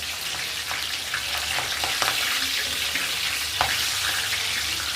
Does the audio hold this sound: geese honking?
no